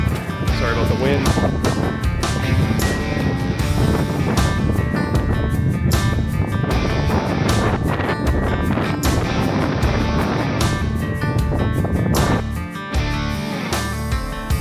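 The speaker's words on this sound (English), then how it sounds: "Sorry about the wind." Strong wind buffets the microphone at the top of Hurrah Pass in Utah during an overland trip in a Toyota Tacoma, a loud continuous roar with gusty thumps throughout.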